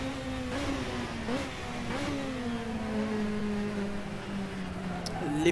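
Race car accelerating along the straight past the old F1 pits of a long, nearly 7 km circuit, engine note rising steadily and loud, with gear changes marked by brief dips before it climbs again, no talk over it.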